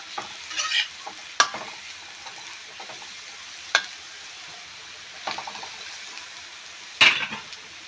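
Beetroot and potato frying in a pan, a quiet background sizzle punctuated by sharp spatula scrapes and metallic clinks every second or two, close by with no voices.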